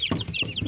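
Young chicks chirp near new watering nipples, a quick series of close, high cheeps in rapid succession.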